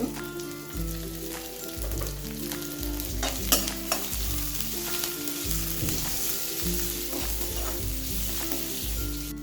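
Shredded cabbage, capsicum and garlic paste sizzle in a hot pan for Kobi Manchurian while a spoon stirs and scrapes in repeated strokes, close and steady, with no talking.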